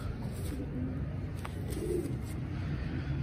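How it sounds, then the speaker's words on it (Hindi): Sabz Cheena pigeons coo softly and repeatedly, low gentle calls close by against a steady background hiss. "ये सबस सीने कबूतर हैं"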